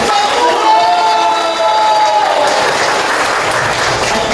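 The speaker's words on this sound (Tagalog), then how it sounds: "masigabong palakpak sa atin" Large audience at a Filipino gathering claps loudly and continuously, with some cheering and a sustained tonal voice or horn-like sound threading through the first half before the applause thickens alone.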